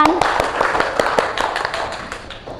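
A class of students clapping hands together in a classroom, a string of quick sharp claps in uneven rhythm, moderately loud and close, with faint voices in the room.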